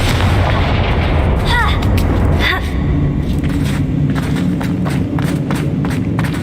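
Confringo fire spell blasting in the Hogwarts Legacy video game, heavy booming explosions and rumble over game ambience throughout, with a couple of brief whooshing sweeps early on.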